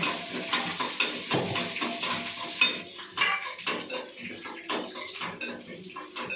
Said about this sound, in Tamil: வெங்காயம் கொஞ்சம் அப்படியே வதங்கட்டுங்க